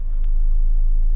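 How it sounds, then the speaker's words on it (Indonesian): A Mitsubishi Outlander Sport engine starts by push button and settles into a steady, close, low rumble that holds for the whole short moment. "Nah sekarang coba kita nyalain, kita lihat ini tombolnya start stop buttonnya di sini."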